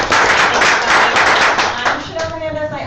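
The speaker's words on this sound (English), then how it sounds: "Everybody give a round of applause." Brief burst of applause at a real estate team meeting, close hand clapping for about two seconds before a voice starts talking as the claps fade.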